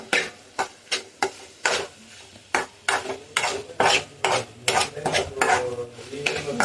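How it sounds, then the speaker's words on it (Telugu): Mutton keema curry is stirred in a pan, a spoon scraping up from the bottom in repeated rhythmic strokes, each sweep a bright close-up scrape with a faint sizzle beneath and a brief word spoken. "ఇలా పైన కాకుండా ఇలా అడుగు నుంచి తిప్పుకుంటూ ఉండండి."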